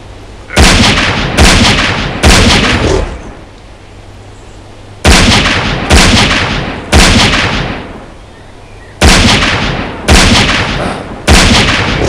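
Sniper rifle shots in the Westland Survival video game: nine loud, sharp cracks, each ringing out and fading, fired in three groups of three with short pauses between the groups.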